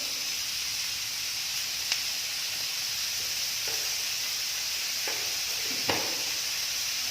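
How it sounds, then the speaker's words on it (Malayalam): Sliced onions sizzle steadily in a hot pan, a bright continuous hiss with a few soft scrapes and clicks as they are stirred, close and alone with no talk. "നന്നായി ഇളക്കി കൊടുക്കാം. ഉള്ളി നന്നായി വാടി വരണം."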